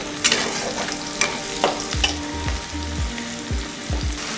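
Crushed garlic and slit green chilies sizzle in hot oil with chopped onions in a pan for a Bengali katla fish curry, with a steady fry hiss and several distinct scraping stirs of a spatula.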